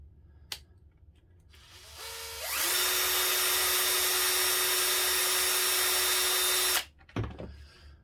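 A power drill spins up and whines steadily for about four seconds while backing screws out of an FTX Kanyon RC car, then stops abruptly, followed by a short clatter; loud and close, no talking.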